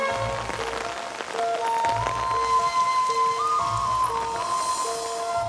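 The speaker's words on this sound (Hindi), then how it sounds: "बाहर बारिश कितनी हो रही है?" Steady rain falls outside in a scene from a Hindi-dubbed South Indian film, a continuous loud hiss of drops on surfaces that runs alone under tonal music throughout.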